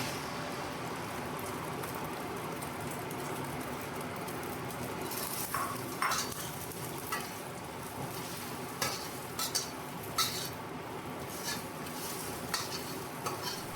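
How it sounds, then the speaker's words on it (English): Beaten egg fries in hot oil in a pot in a rural Chinese kitchen, a steady close sizzle with scattered scraping stirs and light utensil clinks that grow more frequent toward the end. "Frying the egg until fragrant"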